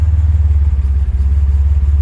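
A 1968 MG MGC GT idles smoothly at around 800 to 900 rpm, a loud, close, deep engine rumble with a steady pulsing beat and a faint clattery edge, with no talking over it.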